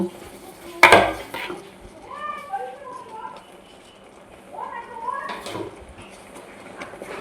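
Mango pickle with ground spices being stirred in a pan, with intermittent scraping and clinks of a utensil against metal, one sharp knock near the start, and birds chirping faintly in the background.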